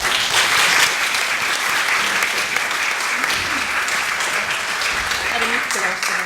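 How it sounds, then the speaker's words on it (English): Audience applause welcoming Ingrid Inga, chair of the Sami Council of the Church of Sweden, at a talk: dense, steady clapping from a sizable crowd filling the room, sustained and even throughout. "We welcome you with an applause"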